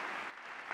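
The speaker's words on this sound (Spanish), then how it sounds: "Puntos claros y contundentes que en varias oportunidades arrancaron fuertes aplausos." A large audience at a speech by Obama breaks into a short burst of dense, steady applause, heard at a moderate distance with no voices over it.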